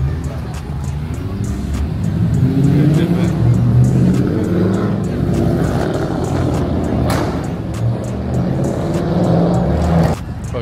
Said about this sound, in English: Heard that motherfucker downshifting down the street